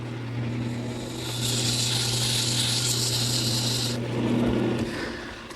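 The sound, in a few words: sanding a wood turning for a quilt rack post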